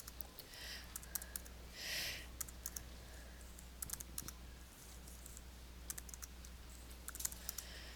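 Computer keyboard keys tapped in quick, irregular bursts with some tabbing between data entry boxes, fairly faint over a steady low hum, no one speaking.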